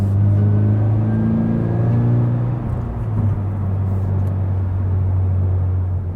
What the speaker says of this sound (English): it sounds way more like a just normal sports car